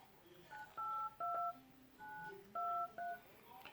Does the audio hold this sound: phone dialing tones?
yes